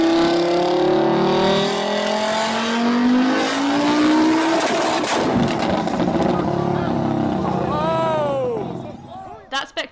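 A modified Ford Focus race car with nitrous and a massive turbo, around 1,000 brake horsepower, screams as its engine revs and climbs, then erupts in a violent blow-up followed by fading sputters, loud and close.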